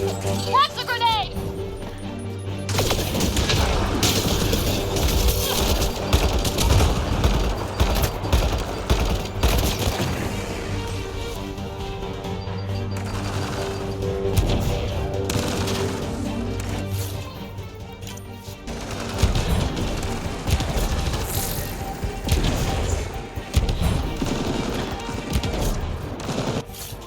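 Loud, sustained gunfire with booming explosions, including a grenade blast, in a Mass Effect: Andromeda firefight; heavy bursts and crashes fill the clip throughout, with voices talking over parts of the battle.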